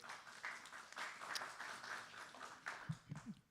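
Faint applause from an audience at a city public meeting on a draft master plan, a few seconds of scattered clapping with a voice starting near the end.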